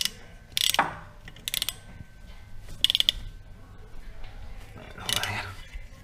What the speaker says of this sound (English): Torque this down to 17.